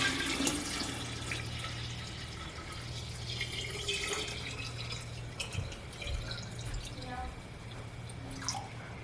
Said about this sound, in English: And then I'm going to pour that over the scobies and starter kombucha.